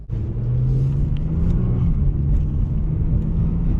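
A 2008 Infiniti G35x AWD with a 3.5 V6 and 166k miles pulls away and cruises, giving a steady low engine drone and road rumble heard from inside the car, with no talking.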